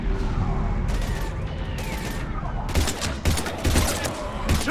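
Mass Effect 3 combat gunfire, a quiet mechanical stretch giving way to loud rapid bursts and single shots cracking close by in the final half, with a faint voice underneath.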